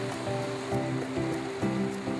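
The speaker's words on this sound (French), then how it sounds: "ce torrent de montagne qui s'appelle la Lignare" The Lignare, a mountain torrent, rushes steadily in a dense, continuous wash of water noise with no voices over it.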